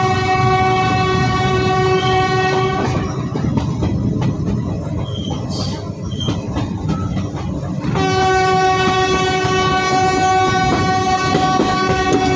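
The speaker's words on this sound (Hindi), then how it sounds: "तो चलिए अब देख लेते हैं हमारी ट्रेन का डिपार्चर।" A passenger train pulls out of Basti railway station. A loud sustained horn sounds, then rumbling wheels and clattering carriages take over, and the horn blares again near the end.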